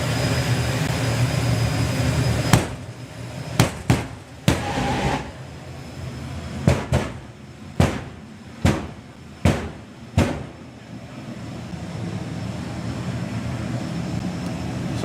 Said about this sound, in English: He's going to bring that turbine right up, smoke out the back, and then off he'll go.